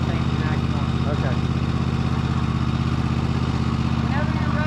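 A Toro TimeCutter 60-inch zero turn mower with a Kohler engine idles in a steady, loud, even rumble with a fast regular pulse, close by and running without change.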